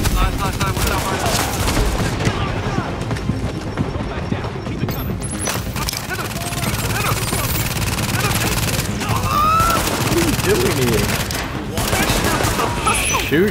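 Rapid gunfire from The Division, a co-op shooter game mission at a field hospital, crackles in sustained bursts and volleys for the whole stretch, with players talking over the shooting.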